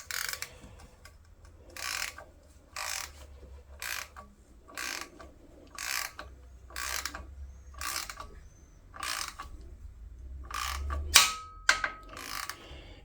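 Ratchet wrench clicking as it turns an 11mm hex socket on a Mercedes M271 engine during timing chain work, repeated rhythmic bursts of ratcheting strokes, close and fairly loud, ending with a couple of sharper metallic snaps.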